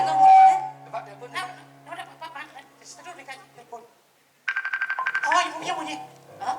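A telephone rings during a Balinese bondres comedy performance, a fast pulsing electronic trill that starts loud right after a brief silence, with people talking just before it and over its end.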